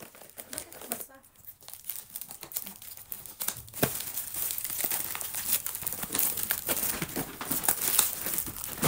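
Paper crinkles and tears as a package of bagoong wrapped in paper is opened, close up, with busy crumpling that grows denser and louder partway through and scattered sharp rips.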